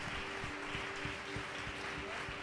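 A church congregation applauds with steady, dense clapping, faint and distant, with no voices.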